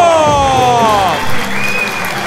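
A wedding audience applauds in a short burst of clapping, loud and close, heard beneath a sustained tonal voice or music.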